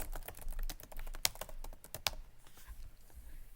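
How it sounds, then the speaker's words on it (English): Typing on a computer keyboard: a quick burst of close, crisp key clicks, a couple of louder strikes, then the tapping stops and only faint quiet remains. "you have to type wireless debugging"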